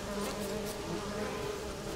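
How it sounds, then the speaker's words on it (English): A swarm of bees buzzing around a corpse in The Witcher 3 game, a steady droning hum with no break, moderately quiet and heard alone. "Sounds like bees."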